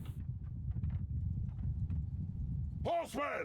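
Horse archers galloping in the medieval battle game Mount & Blade II: Bannerlord, a rapid, rumbling patter of hooves under battle noise, ending with a short horse whinny.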